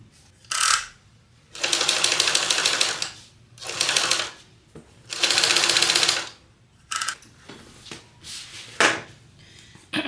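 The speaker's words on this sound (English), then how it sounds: "we're just gonna sew right over those lines" A sewing machine stitching a pocket piece onto the lining of a clutch bag, running in several short bursts of rapid, close mechanical whirring with pauses between them and softer handling noises near the end.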